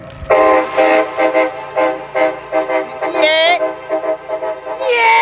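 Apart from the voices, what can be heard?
train horns honking at Horseshoe Curve, Altoona PA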